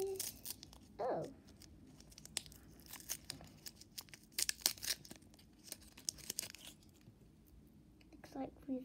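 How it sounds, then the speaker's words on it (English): Scissors snip open a small orange plastic blind bag, giving quiet, scattered clicks and crinkling rustles of thin packaging, with a brief soft voice in between. "I'm just gonna take a little cut in this orange little blind bag"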